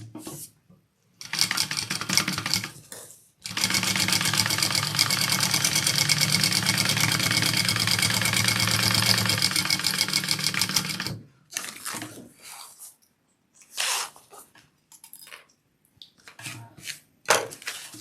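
A sewing machine top-stitching along the upper edge of a fabric wallet runs in one long steady burst of rapid mechanical stitching, then gives way to shorter bursts and handling noises.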